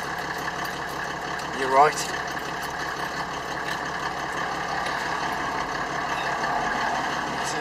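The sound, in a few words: Land Rover Defender with Mercedes-Benz 3 litre 6-cylinder OM606 engine running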